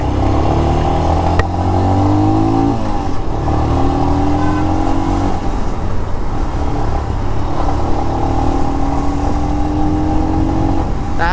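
Royal Enfield Scram 411 motorcycle with a 411cc engine accelerating through the gears, a loud, steady engine note that climbs in pitch, drops at each shift and climbs again, with no talking over it.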